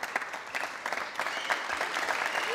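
Crowd applause breaks out after a squash rally at the Windy City Open, a steady wash of clapping that holds at even strength throughout with no voices on top.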